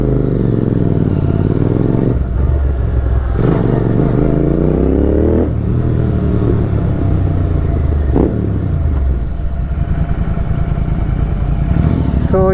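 A GT650 motorcycle engine rumbles loudly and close while being parked, with repeated throttle changes rising and falling over a continuous idle.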